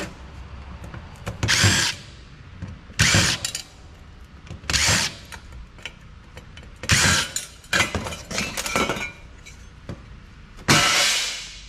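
Power drill backing screws out of a hard drive caddy in an older Compaq PC, five or six short whirring bursts separated by pauses, close and fairly loud, with faint handling clatter between them.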